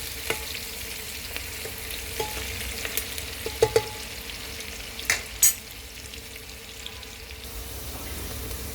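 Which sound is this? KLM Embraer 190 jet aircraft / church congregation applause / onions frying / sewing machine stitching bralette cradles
onions frying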